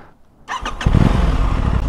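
An Aprilia RS660 sport motorcycle pulls away, its engine rising from a quiet start into a loud, steady roar with a few sharp pulses, close and with no voices.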